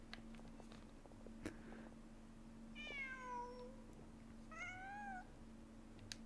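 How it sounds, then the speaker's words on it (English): A cat in a fantasy adventure video game meows twice, two clear drawn-out calls a second or so apart, over a steady low hum of game ambience and a soft tavern-like background. "Just a cat."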